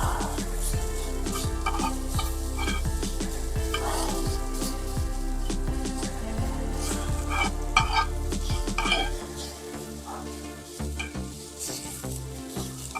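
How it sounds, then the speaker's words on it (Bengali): Onion and chili sizzle steadily in a pan for eggplant mash, a loud continuous fry with repeated stirring scrapes, easing off toward the end. "জন্য ভর্তা বানাতে হলে আপনার পেঁয়াজটা একটু ভাজা নিতে হবে।"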